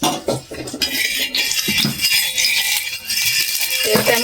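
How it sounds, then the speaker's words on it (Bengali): A flat griddle pan is set on a stove and a little white cooking oil is added, with a run of metallic clinks and scraping clatters of cookware and utensils, close and fairly loud, with no talk. "চাটু বসিয়ে দিলাম, সামান্য তেল দিয়ে দেবো, সাদা তেল চাটুতে, খুব অল্প দেবো"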